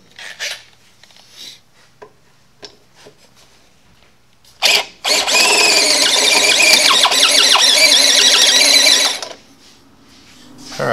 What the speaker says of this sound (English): now we will drill out this hole to make it a little bit bigger